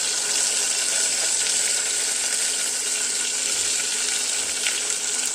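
Green chillies and tomatoes being sautéed in a pan for ghee rice, giving a steady, dense frying hiss like running water, close and unbroken, with no talk.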